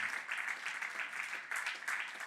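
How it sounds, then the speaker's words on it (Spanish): A church congregation applauding after a Spanish-language sermon, a steady, fairly soft wash of many hands clapping throughout, with no voices breaking through. "Un aplauso fuerte al Señor."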